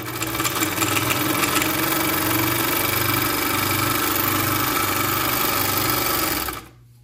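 A semi-industrial GN1-6D overlock serger runs at full speed, a loud, rapid, even mechanical chatter with a rhythmic pulsing hum, stopping abruptly just before the end.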